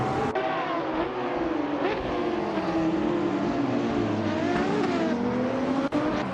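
Race cars roar together at the start at Sportsland Sugo in a racing game, a 2010 Lamborghini Murcielago SV among them, with dense, steady engine drone and rising and falling revs close up throughout, no talk.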